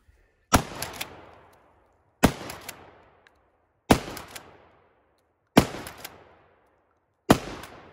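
A Mossberg TAC-14 pump shotgun with a fixed modified choke firing at clay targets outdoors, five loud single blasts spaced about 1.7 seconds apart, each followed by a rolling echo and a quick metallic clack.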